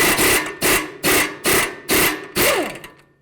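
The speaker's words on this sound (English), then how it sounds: "I'm going to hold this side with the 21 and remove the nut with a 21 as well." A 21 mm wrench ratchets off the strut-to-knuckle nut on a 2008-16 Chrysler Town & Country. The loud, close ratcheting bursts repeat six times in an even rhythm, and the last stroke fades out.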